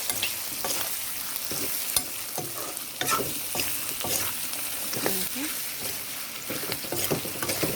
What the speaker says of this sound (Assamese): ইয়াতে গোটেই মছলাখিনি দি লৈছোঁ। হালধি, নিমখ, গুড়ি জলকীয়া, গুড়ি ধনিয়া আৰু ভালদৰে মিক্স কৰি লওঁ।